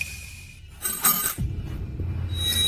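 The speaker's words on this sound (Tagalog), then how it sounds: "Nahulog po ang inyong susi?" A bunch of keys drops onto the floor with a short, bright metallic jingle followed by a brief clatter, heard alone and fairly close.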